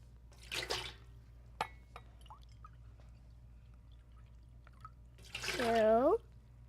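Water is poured into a container to make bubble mixture, a brief splash and then a gurgling pour near the end with a rising pitch as the container fills, amid quiet room sounds and children talking.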